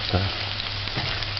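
Garlic sautéing in a pan for a Jamaican-style spaghetti and meatballs dinner, a steady close sizzle with a couple of brief stirring scrapes, no voices.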